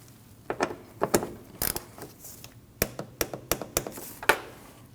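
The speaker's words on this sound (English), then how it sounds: "You need to install that and tighten it down." A ratchet wrench tightens an 8mm bolt during radiator cooling fan work on a 2012-2021 Nissan NV2500 5.6L V8, giving close, crisp clicks in short irregular bursts, then a quicker run of evenly spaced clicks.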